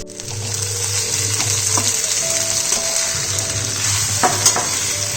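Vegetables frying and being stirred in a pan with turmeric and salt for a vegetarian chorchori, a steady loud sizzle with occasional scraping stirs, no talking.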